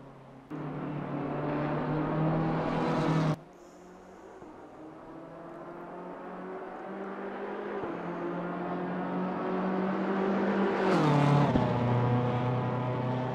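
A BMW M4 GT3 race car engine in Assetto Corsa Competizione at Brands Hatch drones loud and steady, rising in pitch through the gears, with an abrupt cut and a downshift rev change partway, and no talking.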